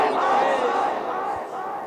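A crowd chants the religious slogan Nara-e-Ghaus in unison at a religious gathering, a loud, sustained group shout that fades slightly at the end.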